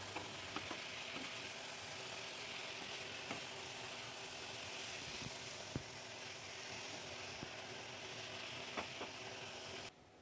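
Fried jackfruit and potato being stirred into a cooked spice masala with tomato ketchup in a pan, a constant soft sizzle with occasional scraping clicks from the spatula, close and steady, with the last moment noticeably quieter.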